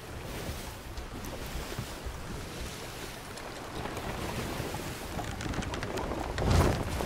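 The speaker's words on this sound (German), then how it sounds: "Der Wind kommt doch gut rein." Steady wind rushes over a sailing ship at sea in the video game Sea of Thieves, a constant broadband whoosh mixed with water wash, with a brief louder gust near the end and no speech.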